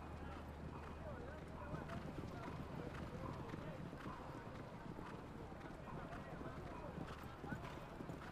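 Polo horses' hooves clip-clop faintly and rhythmically during an Argentina versus USA polo final, under steady commentary.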